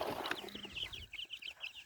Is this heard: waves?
no